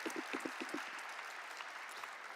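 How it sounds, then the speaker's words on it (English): A corporate celebration marking a pharmaceutical company's ten years of listing on the National Stock Exchange draws a continuous round of applause from the audience, heard distant and quiet but steady throughout. "Can we have a huge round of applause for Alkem Laboratories?"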